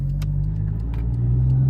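Toyota JZX100 with a GTE engine swap and a new Greddy intercooler drives along, its engine giving a loud, steady low rumble heard from inside the car.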